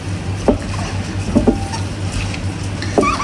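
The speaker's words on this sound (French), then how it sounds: "on va bien mélanger notre viande, qu'elle soit bien imprégnée" Chicken meat is worked with oil in a bowl for a Brazilian galinhada, giving soft wet squelching and a few sharp clinks over a steady low hum, close and fairly loud.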